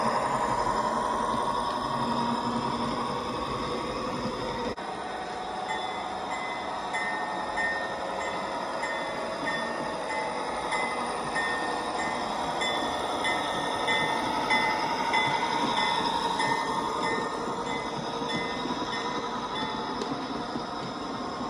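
Sound unit of a PIKO 1:24 scale GE 25 ton radio-controlled locomotive hums steadily with a continuous diesel-style engine drone and faint tonal whines, a constant, even rumble lasting throughout with no talking.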